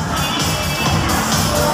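Senior women at a Christmas party in a gym clap and cheer together in a loud, busy burst of crowd noise with shouting voices mixed in.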